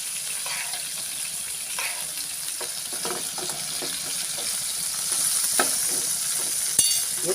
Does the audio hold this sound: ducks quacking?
no